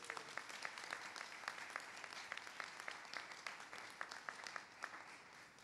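Fairly quiet crowd applause at an Earth Day event honoring Richmond city teams, a continuous patter with a few distinct nearby hand claps standing out in a loose rhythm.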